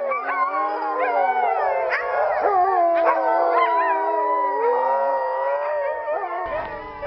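Sled dogs howl together in a sustained, overlapping chorus of wavering pitches, loud and close, with a few sharper yips mixed in and no talking.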